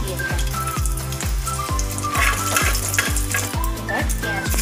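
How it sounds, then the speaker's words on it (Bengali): Whole cardamom, cloves, cinnamon and a dried red chilli sizzle in two tablespoons of hot oil for a prawn malai curry. The frying hiss is steady and close, with a regular soft thumping pulse underneath. "এবার দিলাম গোটা গরম মশলা ফোড়ন দিচ্ছি। এলাচ, লবঙ্গ, দারচিনি আর একটি শুকনো লঙ্কা দিয়ে দিলাম।"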